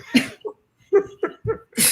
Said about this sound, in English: What do you do for this cough? Cough? try to hack it out.